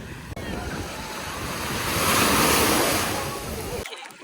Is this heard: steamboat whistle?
no